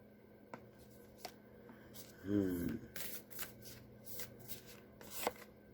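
Tarot cards shuffled in a short riffling burst partway through, fairly close and moderately loud, with a few faint taps and soft handling noises around it.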